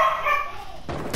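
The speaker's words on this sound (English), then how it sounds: "So, is this my dog?" A dog in a video game lets out a short bark and yip, a brief close sound following a stretch of game audio with tonal background music.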